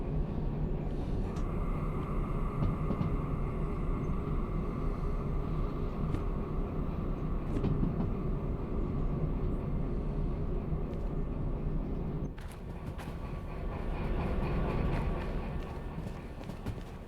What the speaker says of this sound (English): Big old train.